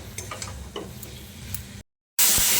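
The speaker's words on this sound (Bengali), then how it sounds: "ভাজা আলুগুলো দিয়ে মশলার সঙ্গে আলুটাকে খুব ভালো করে কষিয়ে নিতে হবে" Fried potatoes being stirred and sautéed with spices in a pan for a low-oil vegetarian alur dom, giving a soft sizzle with scraping, then a brief silence before a louder burst of frying.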